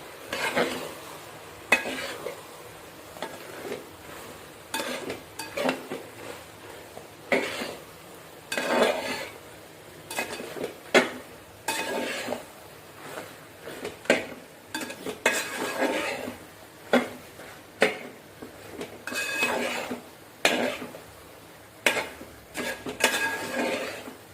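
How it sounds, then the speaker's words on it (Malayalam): Crushed garlic stirred into chicken in a pan, a close run of repeated spatula scrapes and metallic clinks over a soft, constant sizzle, with no voices. "വെളുത്തുള്ളി ചതച്ച് വെച്ചതും നന്നായിട്ട് ഇട്ട് കൊടുത്ത് നന്നായിട്ട് മിക്സ് ചെയ്ത് വിടാം."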